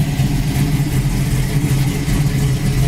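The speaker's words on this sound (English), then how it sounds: "this car runs great, and it's got a ton of torque." A 1969 Chevy Camaro in black primer runs steadily, its engine a loud, even, close-up rumble with no pauses or voices.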